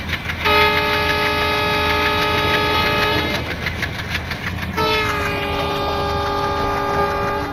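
A Howrah–New Delhi Rajdhani Express in Train Simulator sounds two long, loud multi-tone horn blasts, separated by a short gap, over a steady rumble of the running train.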